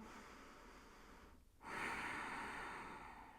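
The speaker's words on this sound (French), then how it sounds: "Inspire, expire profondément." Deep yoga breathing while lying in a resting pose: a soft, steady breath gives way to a fuller, louder airy exhale, close and alone with no talking.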